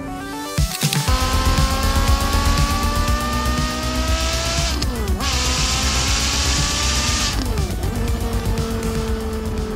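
Porsche Carrera GT with its 5.7 litre V10 revving hard through rising gear pulls, each climb in pitch ending in a sharp drop at the shift. The engine is loud and close, with a rough start at the beginning.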